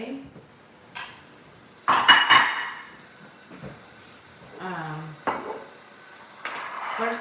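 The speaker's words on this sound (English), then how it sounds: "I'm going to move these little dishes out of the way." Small kitchen dishes shifted aside on a counter while cooking lentils with wild rice, giving a few clinks and knocks around the middle, with a voice talking in between.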